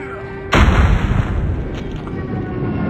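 A sudden heavy airstrike blast in Call of Duty Mobile, a loud close boom followed by a long rumbling roar that stays strong to the end.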